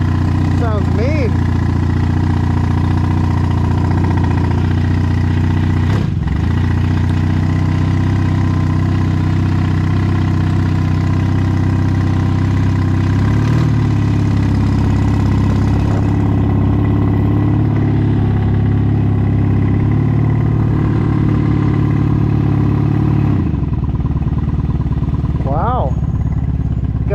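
Motorcycle engine idling steadily after a choke start, a loud close low rumble that continues throughout, with a person talking over it at times.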